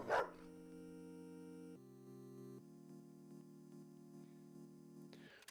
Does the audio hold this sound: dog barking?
yes